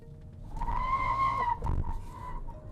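A BYD Dolphin Plus electric car doing a burnout, with a brief tyre squeal that rises and then breaks off, followed by shorter scrubbing bursts, moderately loud and without talk.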